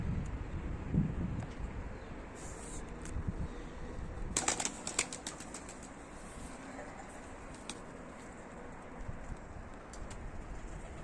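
Tumbler pigeons flying and landing outdoors, with soft fluttering wing flaps and a few faint coos over steady wind; a brief flurry of flapping midway, fairly quiet and distant throughout.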